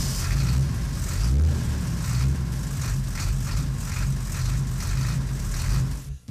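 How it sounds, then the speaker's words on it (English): A car engine, freshly flushed and given an oil change, starts and runs with a steady low rumble, revving slightly at times before cutting off abruptly at the end. "Let's start the engine."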